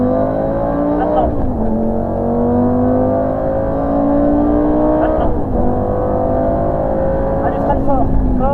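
A Lamborghini Gallardo LP560-4 revs up loudly and continuously on a track, pitch climbing, dropping briefly, then climbing again as it accelerates through gears, with a voice speaking over it.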